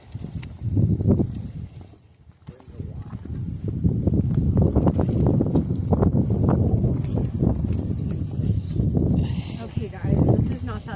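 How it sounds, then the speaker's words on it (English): Wind blowing hard at the Oregon seaside, a steady loud rush that rises and holds through most of the stretch, with people talking over it and some footsteps on a path. "Very windy."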